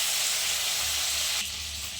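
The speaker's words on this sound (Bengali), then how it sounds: "মাছগুলো এবার ভাজা হয়ে গেছে," Fish sizzles hard in hot oil in a pan, a loud, dense, steady hiss that drops slightly in level near the end.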